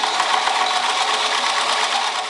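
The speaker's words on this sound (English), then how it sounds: "And I am just stitching as close to the edge there as possible." Sewing machine running steadily while stitching along a fabric edge for a vintage dress, a fast continuous whirring drone, close and loud, with no talking.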